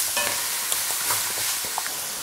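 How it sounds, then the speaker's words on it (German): Leek and carrots sauté in oil in a pan for a salad, a steady close sizzle with occasional stirring clicks and scrapes, no talking. "Und das wird auch nun mit angeschwitzt"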